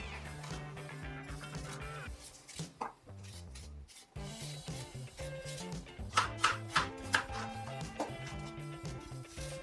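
A knife chopping a Bramley apple into pieces on a board, with a steady run of close, crisp cuts and knocks that come faster and louder toward the end.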